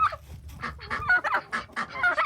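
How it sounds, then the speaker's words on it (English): A rooster on a farm gives a rapid run of harsh, squawking calls, loud and close, in several bursts over about two seconds. "This is our other rooster."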